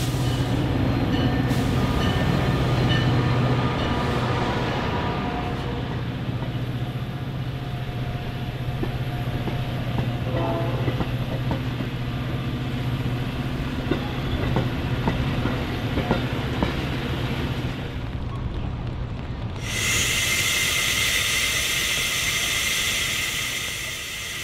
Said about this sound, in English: new crew leads the train back into the station